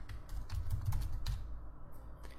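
Computer keyboard typing out PHP code, a quick irregular run of soft key clicks in bursts that thin out and pause toward the end, close and fairly quiet.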